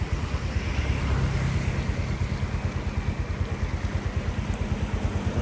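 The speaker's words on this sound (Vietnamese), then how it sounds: "Nước chỗ này chảy mạnh." Floodwater released from a reservoir in Diên Khánh rushes strongly past, a loud, continuous roar with a rhythmic low pulsing and wind buffeting the microphone throughout.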